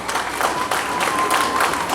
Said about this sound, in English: You should give them a big round of applause.